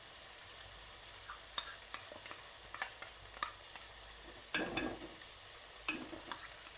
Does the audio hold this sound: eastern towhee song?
no